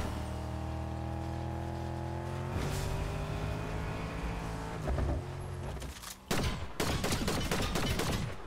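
Gunfire in a shooter video game breaks out as bursts of rapid sharp shots over an engine-like drone, with the firing growing denser and louder toward the end.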